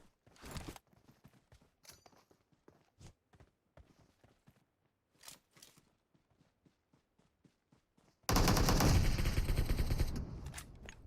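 Gunfire in a multiplayer shooter game: a dense, loud burst of rapid shots erupts near the end after a stretch of scattered faint clicks and footsteps.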